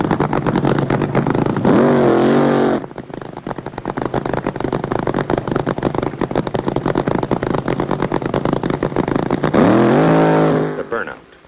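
A 1971 drag racing car does a burnout, its engine roaring hard in sustained loud bursts with rising revs near the start and end, tire squeal and crackle mixed in, while a narrator speaks over it.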